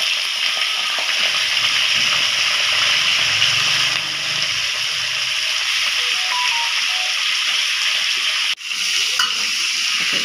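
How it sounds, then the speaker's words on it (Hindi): Small beef pieces fry in oil with whole garam masala in a karahi for beef karahi, giving a loud, steady close sizzle with occasional stirring and a brief clank near the end. "अब इसमें ये मैंने बीफ की छोटी छोटी गोटियाँ की थी वो डाल के मैं इसे कर लूँगी फ्राई"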